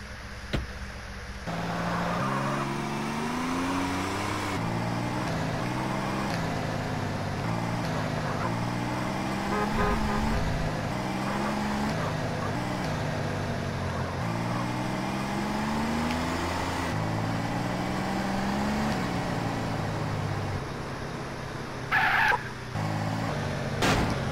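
A car driven in the video game GTA San Andreas: a steady engine drone for about twenty seconds that rises and falls in repeated stepped pitch sweeps as gears shift, loud and close, with a brief clattering burst near the end.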